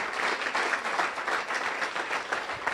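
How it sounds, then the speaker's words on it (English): Applause from attendees at a Las Vegas Rotary Club weekly luncheon meeting, a steady, moderately loud wash of many hands clapping with no speech. "Let's give a round of applause for those that are currently serving."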